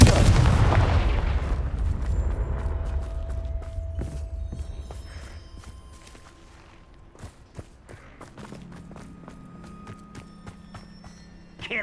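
In Hogwarts Legacy, the Confringo blasting spell goes off with a heavy booming explosion at the start that fades into rumbling, creaking debris and scattered clattering impacts.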